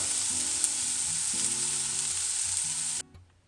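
Previously frozen cooked vegetables sauté in a hot pan, a steady close sizzle with a faint stirring scrape and some background tones, cutting off abruptly near the end.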